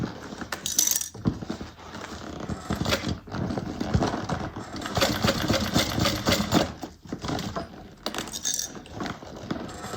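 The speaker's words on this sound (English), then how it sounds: "we're going to start stitching here" A sewing machine stitches a Jasmine bag in quick bursts, whirring close by and stopping briefly between runs.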